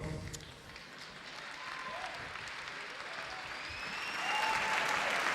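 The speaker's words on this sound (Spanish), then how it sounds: "tenía dudas si ibais a seguir aplaudiendo" A crowd applauds steadily at a municipal band concert, the clapping continuous and fairly distant, swelling slightly louder toward the end, with a few voices faintly mixed in.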